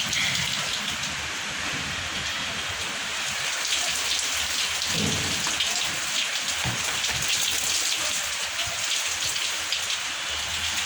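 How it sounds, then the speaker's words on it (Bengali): Heavy rain pours steadily outside a home window, a dense continuous hiss of water striking surfaces with low thunder rumbling beneath it, loud and close throughout with no talking. "অনেক জোরে বৃষ্টি হচ্ছে"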